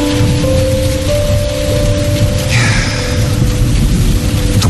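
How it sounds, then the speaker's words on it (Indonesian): Heavy rain pours steadily with a low rolling rumble of thunder underneath, a dense, loud storm bed used as a radio drama effect, with a faint tonal hum running through the first half. "dan hujan pun turun."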